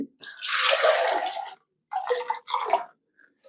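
Water is poured into a pot for a 1 kg seeraga samba chicken dum biryani, heard as one long splashing pour followed by two shorter pours with brief silences between, close and clear.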